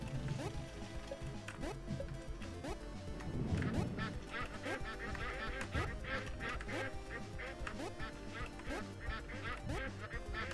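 In a Legend of the Brofist platformer, repeated duck quacks pop up over busy, driving game music, with short honking calls scattered through the whole stretch and no speech.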